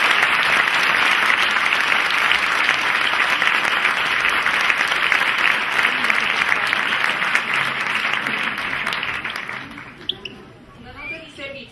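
Audience applause for a guest speaker at an evening talk, a dense, loud, continuous clapping that holds for about ten seconds and then fades out, leaving scattered claps and a hint of murmuring.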